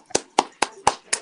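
Five sharp hand claps in an even, steady rhythm, close and moderately loud, greeting the bloodthirsty lucha libre wrestler Murder Clown as he joins as a special guest.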